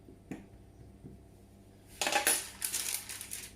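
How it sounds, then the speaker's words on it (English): A metal fork pricks holes in a trimmed pastry base in a tart tin, ready for blind baking: one faint tap, then a dense run of bright, scratchy metallic pricks and clicks for about a second and a half, close and alone. "Just going to get my fork and just put some holes in the bottom there"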